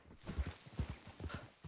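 Hooves of a horse clip-clop at a walk on a ride, a regular series of fairly close, muffled thuds with no talking, quiet overall.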